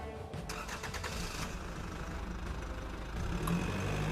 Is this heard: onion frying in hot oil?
no